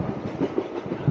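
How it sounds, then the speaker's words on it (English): A train rolls past on a nearby line, a steady broadband rumble with rhythmic low clatter from the wheels, fairly loud and close, with no talking over it. "Oh, I've just realised I'm sitting by the train line."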